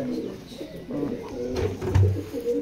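Rampuri pigeons in a breeding loft coo in low, rolling murmurs, several birds overlapping with soft rustling and a brief thump nearby.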